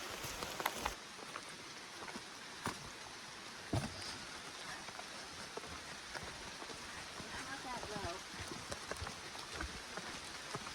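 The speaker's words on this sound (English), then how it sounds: "it just keeps raining" Steady rain falls during a long hike, pattering continuously on an umbrella and the ground with occasional sharper drops, close and even, while someone walks.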